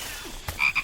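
A frog croaks in a few quick, close bursts over a steady wild outdoor background hiss, as a baby tiger nearby prepares to pounce on it; no one speaks.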